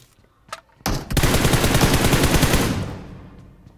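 M16 rifle fire in the PUBG Mobile video game: a couple of isolated shots, then a loud, rapid automatic burst that runs for about two seconds before fading.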